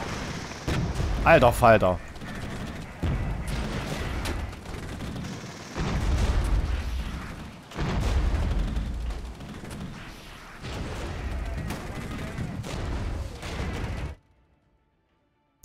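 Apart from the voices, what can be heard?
artillery fire in the video game Regiments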